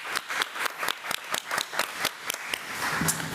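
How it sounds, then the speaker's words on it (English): At a county school committee meeting, a small group of attendees claps quietly, giving sharp individual claps in a quick, even rhythm that fade into a softer patter near the end. "Let's give Ms. Rhonda another round of applause"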